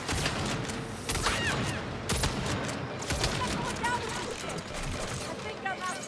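A gun fires in Saints Row (2022), rapid bursts of sharp shots in a dense, continuous fusillade amid game noise, with someone talking over it.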